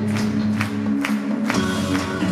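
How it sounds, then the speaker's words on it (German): An audience at a concert in Oberhausen cheers and applauds, with loud crowd noise and several sharp clap accents over a steady humming backdrop from the stage. "Schreien und klatschen, das ist sehr gut!"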